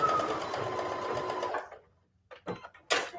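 An electric sewing machine runs steadily, stitching a patchwork of fabric scraps and old denim jeans, then stops; a few short bursts of handling noise follow.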